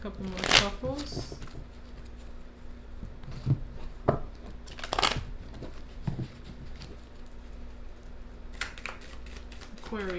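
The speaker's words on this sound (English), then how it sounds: "Couple more shuffles." Tarot cards being shuffled in several brisk riffling bursts, separated by quieter pauses with faint room noise.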